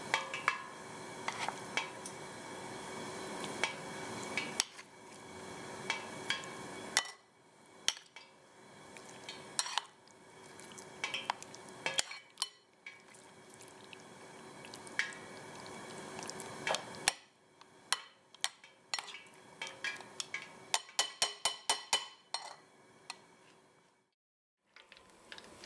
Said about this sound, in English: transfer the fish to the batter using tongs and mix thoroughly so each piece is coated